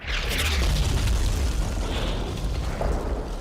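A heavy explosion booms as a city is bombed in Diablo III, a dense low roar that swells at once and rumbles on loudly for several seconds before easing slightly.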